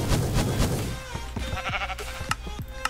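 Sheep bleat repeatedly in the Minecraft video game, short nasal calls mixed with game effects and a burst of sound at the start, with a voice faintly underneath.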